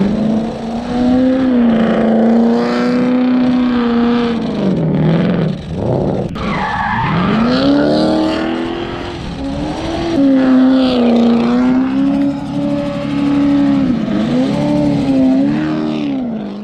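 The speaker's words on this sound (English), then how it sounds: "It has a 9-liter twin-turbo V8 made by Mercury Marine." A car fitted with a 1650-horsepower, 9-liter twin-turbo Mercury Marine V8 revs loud and close, its steady roar swooping up and down in pitch over several sustained pulls.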